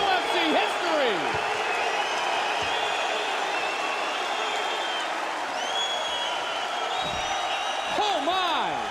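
The arena crowd at UFC 38 in London roars in a dense, sustained wall of cheering and whistles after a knockout, with excited commentary running over it throughout.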